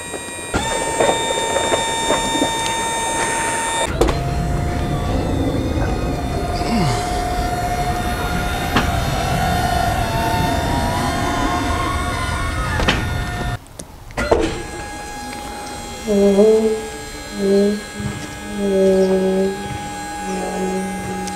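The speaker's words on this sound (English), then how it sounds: "hit the auto level button after that. So all the jacks will come back out to the auto level" RV leveling jacks extend during an automatic leveling cycle, giving a steady electric motor whine with a hum that runs for about nine seconds, stops abruptly, then gives way to a few short, separate mechanical pulses.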